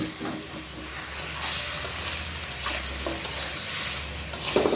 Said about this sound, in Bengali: দেখো সুন্দর করে মশলাটা কষিয়ে নিলাম এবার দিয়ে দিব কেটে ধুয়ে রাখা স্কোয়াশ